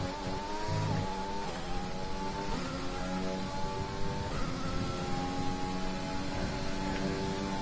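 Screaming F1 car engine in the F1 2020 racing game, a steady loud high-revving drone with harmonic pitch climbing through gear shifts, continuous throughout with no talk.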